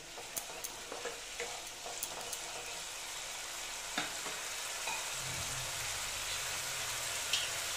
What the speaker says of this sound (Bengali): চিনি দিয়ে আবার এটাকে ভালো মতন আবার কষিয়ে নিচ্ছি।